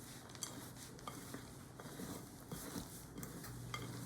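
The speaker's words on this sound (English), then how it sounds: "Just keep mixing it up. And it's going to be thick, kind of like a cookie batter." Thick cookie-style batter with butter being mixed by hand for white chocolate cranberry squares, giving soft, irregular squelching and patting close by, with faint clinks of a bowl and no talking.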